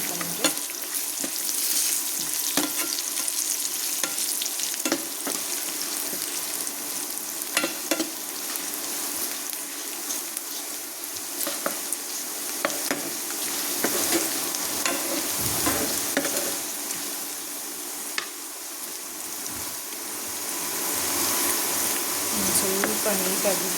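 Spices with turmeric frying in a pan for khara churmuri, giving a continuous loud sizzle with occasional stirring scrapes, close up.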